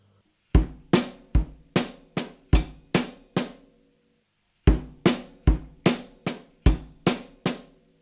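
A drum set groove in 7 combining bass drum, snare and hi-hat. Two bursts of seven and six crisp, evenly spaced hits sit on either side of a short gap. Close and clear, with no voices.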